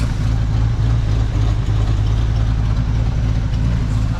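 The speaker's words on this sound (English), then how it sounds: "She's running pretty good right now. She's smoking out of every spot of the exhaust possible." A Chevrolet squarebody truck engine runs at a steady, loud idle with a lumpy low rumble through a leaking exhaust system, close to the microphone with no other sounds.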